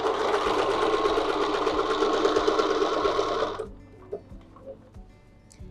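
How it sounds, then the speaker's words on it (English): A sewing machine stitches a quilting design along a template, running as a steady, fast mechanical hum and clatter for several seconds before stopping, followed by faint clicks and handling noises. "All you're doing is stitching 3/4 of a circle from an upper diagonal to the opposite upper diagonal."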